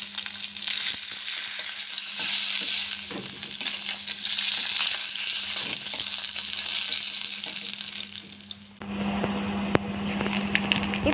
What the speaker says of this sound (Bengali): একইভাবে মাছের বাকি টুকরোগুলিকেও লালচে লালচে করে ভেজে তুলে নিব।